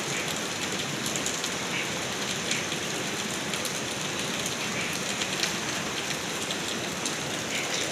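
Artificial rain falls steadily in front of a house, a dense, even hiss of water pattering on surfaces that continues unbroken throughout, close and fairly loud.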